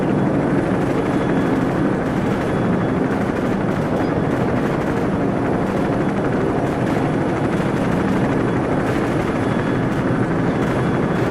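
Steady, loud helicopter rotor thrum and engine roar in Call of Duty 4: Modern Warfare, continuous throughout with no voices.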